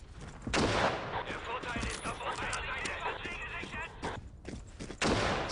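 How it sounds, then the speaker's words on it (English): Gunfire in the World War II shooter Battlefield 1942, with repeated shots and rattling bursts on a battlefield, mixed with ambient game noise and someone talking over it. "someone's firing at me"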